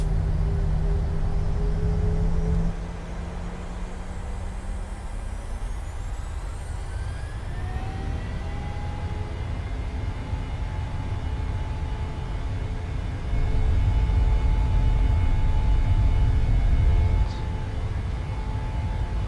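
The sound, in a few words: Boeing 737 taking off in a flight simulator video game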